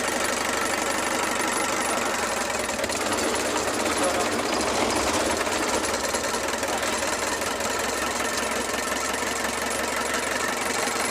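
A rough, rattling Mitsubishi 4D31 diesel engine, airlocked after running out of fuel, runs continuously and loudly, with a knocking clatter throughout and a voice speaking over it.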